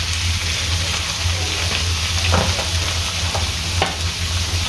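Cream being stirred into a mixture for a bakery-style club sandwich, a steady scraping and swishing with occasional sharper clinks of the utensil against the bowl, close and fairly loud over a low background hum.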